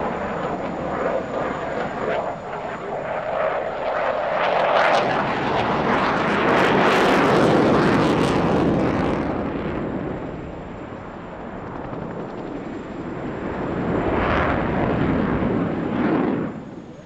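EF-18A Hornet fighter jet at the Festa al Cel 2019 airshow, a loud continuous jet roar that swells to a peak mid-pass, eases off, then surges again toward the end, with no talk over it.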